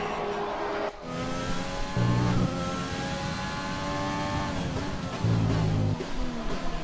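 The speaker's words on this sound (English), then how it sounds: "just listen to the McLaren engine purring like a pussy" A McLaren Formula 1 car in the F1 20 racing game howls at high revs, pitch climbing through the gears with brief drops at upshifts and low pulses of other cars nearby, sounding alone.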